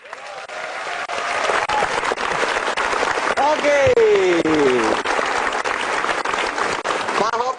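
Audience applause for Indonesian stand-up comedian Arif Didu at a comedy show, sustained loud clapping across the whole stretch while a voice speaks over it briefly.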